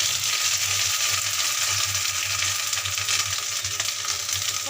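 Half an inch of ginger fries in hot oil with cumin seeds, chili, a bay leaf and asafoetida, a steady close hiss that continues alone without talk.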